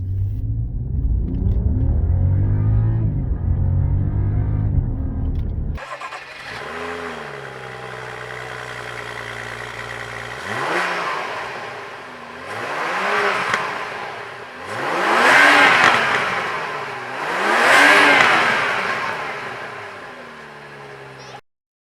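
A BMW 535i M Sport F10 with a muffler delete and quad exhaust tips starts from idle, then accelerates hard from 0 to 50 through several gears, each rising engine roar dropping at the shift. Loud and close.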